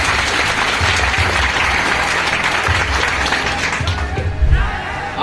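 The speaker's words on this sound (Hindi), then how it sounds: "ताली के लिए एक बार।" Audience applause for a selected exam topper in an UKPSC jail warder recruitment exam, a loud, dense, continuous clapping from a nearby crowd lasting the whole stretch with a brief bump near the end.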